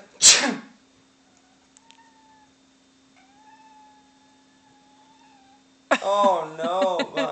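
A person sneezes once, sharply and loudly. A cat answers with a few drawn-out, wavering meows, and then a voice starts talking close by.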